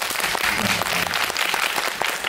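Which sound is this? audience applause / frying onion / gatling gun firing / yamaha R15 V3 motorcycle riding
audience applause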